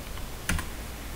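Typing on a computer keyboard in a quiet room, a brief cluster of two or three close, crisp key clicks standing alone against low background hiss.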